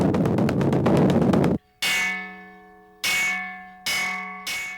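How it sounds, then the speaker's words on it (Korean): A large Buddhist temple bell struck for the evening service, following a dense rapid clatter, then four heavy clanging strikes, each ringing out with a long humming decay, loud and close. "그날 저녁, 여느 날처럼 저녁 예불을 알리는 타종이 시작됐다"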